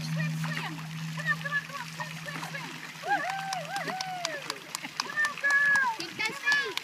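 Water splashes as a child swims in a pool, with light intermittent splatters under close voices and cheerful talk, and a steady hum in the background at the start.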